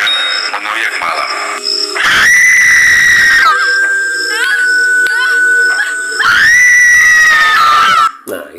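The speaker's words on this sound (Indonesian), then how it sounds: "Dan lalu jeritan panjang mengoyak malam." A long scream sound effect for a horror animation wails for about eight seconds, shrill and sustained with wavering pitch, loud and up front with no other sound.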